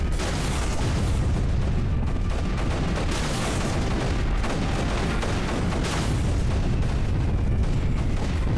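Dense, continuous booming from the Creeper World 3 video game, a rumbling wash of overlapping explosions and gunfire-like blasts at steady loudness with no pauses.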